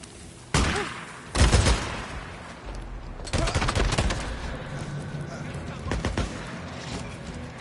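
Gunfire and a grenade blast in the video game Days Gone on PS5: sharp loud bursts of shots, then a heavy booming impact followed by a rattling volley of rapid fire, with game sounds continuing in the background.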